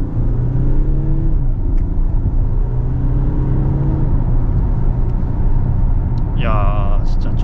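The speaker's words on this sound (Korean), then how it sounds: "한번 저속에서 쫙 밟아볼게요" An Audi A7 50 TDI diesel car accelerates hard from low speed: a steady, loud engine rumble and road roar fill the cabin, and a voice briefly speaks over it near the end.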